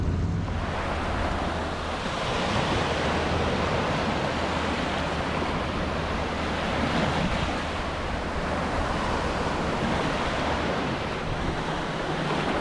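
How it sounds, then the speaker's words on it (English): Steady surf breaking along Henderson Beach State Park in Destin, Florida, on the Emerald Coast: a continuous broad wash of waves with light wind noise, loud and close throughout, no voices. "now this is an amazing beach. This is Henderson Beach State Park in Destin, Florida"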